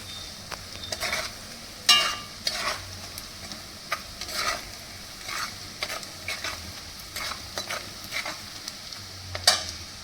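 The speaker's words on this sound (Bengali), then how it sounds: "এবার আমি নাড়াতে থাকবো কষিয়ে নিই মশলাটা" Spice masala is stirred and fried for a pineapple hilsa fish dish, with a rhythmic series of spatula scrapes and knocks over a steady close sizzle, repeating every second or so, without speech.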